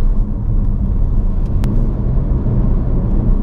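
A Ford Focus RS being driven hard over bumpy road, heard as a steady, loud low rumble of engine and road noise with one brief sharp knock partway through.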